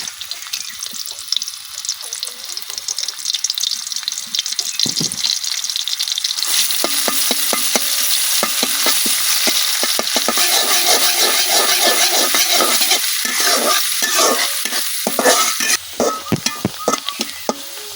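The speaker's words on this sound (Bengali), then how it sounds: "এখন কড়াই তেল দিতেছি। এখন দিয়ে দিতেছি কাইটে রাখা পেঁয়াজ।" Chopped onions sizzle loudly in hot oil in a wok, with frequent scraping and stirring strokes close by and a steady crackling hiss throughout.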